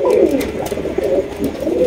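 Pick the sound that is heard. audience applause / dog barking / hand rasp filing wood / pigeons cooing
pigeons cooing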